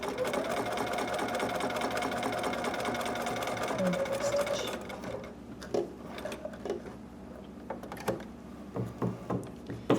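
A sewing machine runs steadily while stitching a hood seam in a sewing class, a dense continuous whir that stops after about five seconds, followed by scattered clicks and handling noises.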